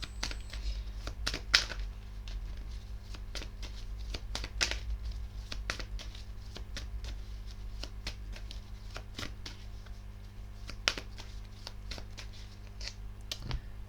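Tarot cards shuffled by hand before a monthly reading, a steady rustle of riffling and crisp slaps repeating throughout, close and fairly quiet over a low steady hum, with no talking.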